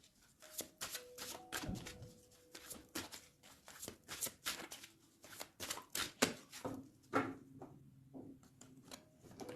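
A deck of cards being cut and shuffled for a reading: a rapid run of crisp riffles and slaps in an uneven rhythm, close and clear, with no talking.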